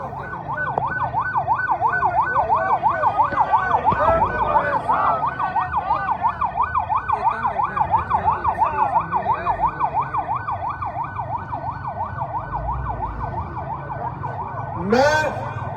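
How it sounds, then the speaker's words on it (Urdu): An ambulance siren wails loudly and nearby with a steady, fast up-and-down sweep through a street protest over election results in Haripur. Road and crowd noise lie underneath, and a brief horn-like blast comes near the end. "ایمبولینس کا رستہ دو بڑی مہربانی ایمبولینس کا رستہ دو"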